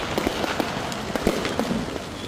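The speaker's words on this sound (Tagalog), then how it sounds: "yung paputok, direct pataas" Firecrackers shot straight up during New Year celebrations in the Philippines crackle and pop in rapid, irregular bursts, with sharp snaps scattered over a steady background of distant explosions.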